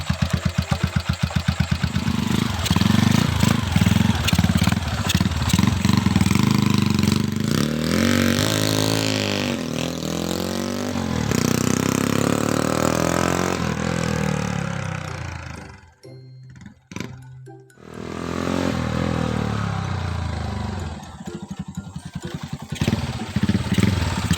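A Honda Sonic 125 motorcycle with a loud custom-built exhaust idles, revs hard and rides off, its engine roaring close, briefly dropping out midway before crackling back to life.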